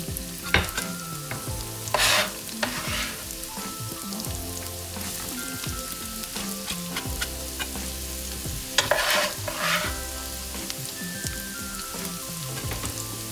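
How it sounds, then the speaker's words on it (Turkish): Onions frying in oil in a pan while being stirred, a continuous crackling sizzle with sharp scraping strokes of the spoon every few seconds over a steady low background. "yağımızı ekliyoruz. Ve arkasından da hemen soğanlarımızı göndereceğiz."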